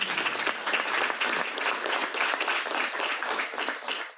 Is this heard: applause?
yes